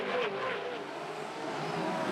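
A Supercar racing on a Tasmanian circuit, heard on board with a cool tyre, its engine roaring loud and steady throughout with a brief pitch change as it shifts from third to fourth gear.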